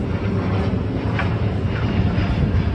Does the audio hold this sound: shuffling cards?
no